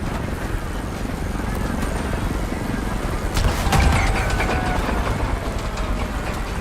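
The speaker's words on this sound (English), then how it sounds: "We got enemy halos in the air!" Enemy helicopters in Call of Duty Black Ops 6 fill the game's battle mix with a dense, steady rotor and engine roar. A heavier burst hits midway, and faint voices sit underneath.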